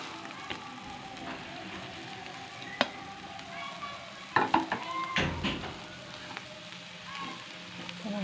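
Chopped coriander cooking in a pan for kothimbir vadi, a soft sizzle under uneven stirring and scraping, with a burst of louder clattering strokes midway and quieter stirring after.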